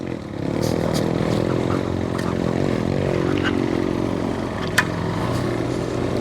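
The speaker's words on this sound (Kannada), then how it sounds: "ಆಫ್ ರೋಡ್ ಬೈಕ್ಸ್ ಇದ್ರೆ ಮಜಾನೇ ಬೇರೆ." An off-road motorcycle riding a rough rocky trail at Acchalu Betta near Bangalore, its engine droning steadily and close, with small knocks and rattles from the terrain.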